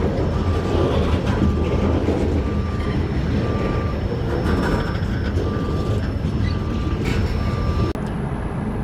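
A train rolls past a four-track railroad crossing with no crossing guard near a rail yard in Florida, a steady, close rumbling roar running throughout with a faint repeating tone pulsing above it.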